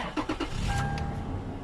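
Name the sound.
2010 Toyota 4Runner engine starting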